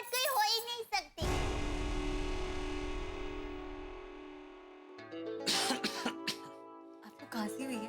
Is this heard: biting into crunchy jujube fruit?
no